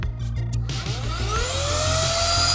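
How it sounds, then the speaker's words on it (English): A new 3-in-1 cordless handheld car vacuum switches on: after a brief low rumble, a motor whine rises in pitch and settles into a loud, steady whirring hum. "We're going to power on our vacuum."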